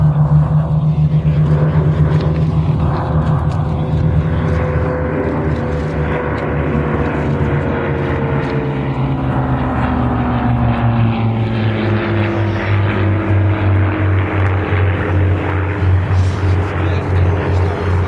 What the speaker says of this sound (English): A P-39 flying in formation with his cousin, the P-63.